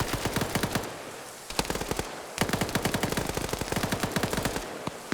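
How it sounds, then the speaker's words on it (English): An enemy AK rifle fires in a video game, harsh rapid automatic bursts of evenly spaced shots, close and loud, broken by brief pauses between three long strings of fire. "This is an enemy firing."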